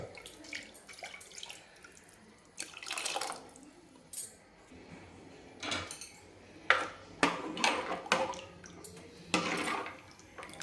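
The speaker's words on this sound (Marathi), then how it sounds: "तर थोडं रश्श्यासाठी मी आता कुकर विसवून पाणी टाकणार आहे" Water is poured into a pressure cooker holding cooked mutton, a splashing pour with clinks of metal pots and utensils in bursts, close and fairly loud, with no one talking.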